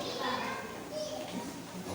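Noisy children during a church worship night in Capas, Tarlac, chattering and playing as a continuous murmur of small voices with occasional higher squeals.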